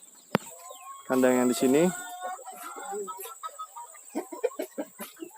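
Chickens in a small housing-complex coop cackle and cluck close by, with a burst of loud calls early on, then scattered softer clucks as a person speaks over them.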